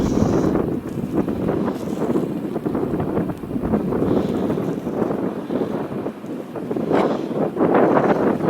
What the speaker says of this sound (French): Il y a du vent là, putain.